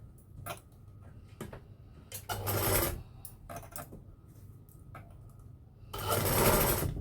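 A sewing machine stitches pleats into a kalash cloth, running in short whirring bursts with ticking pauses between them and ending in a longer, louder run.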